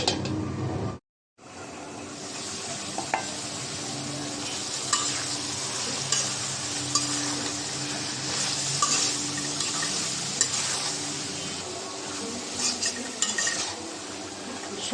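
Eggplant, potato and tomato with dried fish sauté in a pan, a steady close sizzle with scraping stirs and light clinks of a utensil against the pan after a brief pause at the start.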